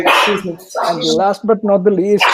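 A dog barks close by during a podcast panel recording, with a few sharp yips mixed into the audio. Someone keeps speaking over the barks.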